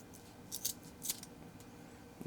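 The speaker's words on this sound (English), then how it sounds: "You cut it with scissors, frays" Sharp scissors snipping braided sleeving in a garage, a few quick crisp cuts in close succession, then a faint last snip, with no talk.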